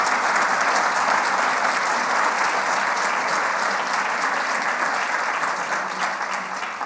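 Steady, dense applause from a large church congregation fills the whole stretch, loud and sustained, tapering slightly at the very end.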